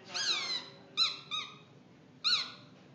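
Shrill squeaks from a squeaky-toy whistle lodged in a child's throat: one longer squeal, two short chirps, then another after a pause, close and fairly clear against a quiet room.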